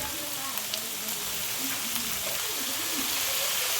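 Chicken pieces shallow-frying in hot oil give a steady, close, dense sizzle and crackle that stays even throughout, with a faint voice murmuring underneath.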